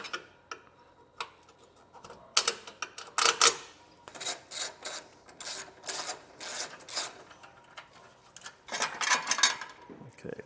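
A small screwdriver pries plastic trim clips off a 2020 Jeep Cherokee, giving a run of close scraping, clicking and rasping taps in irregular clusters, with no talk.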